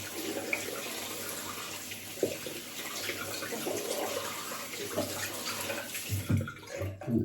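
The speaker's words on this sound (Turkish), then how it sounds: "yine fırçamla kabımı yıkıyorum" A shaving brush and its bowl are rinsed under a running tap, with steady splashing water close by and small clinks and sloshes as they are handled.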